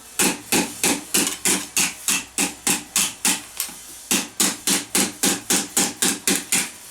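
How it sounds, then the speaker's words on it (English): Round-faced hammer shaping a medieval steel armour plate for an arm harness over a dishing form: about twenty light, evenly spaced ringing taps close by, with one brief pause midway and no talk. "Any round-faced hammer will do,"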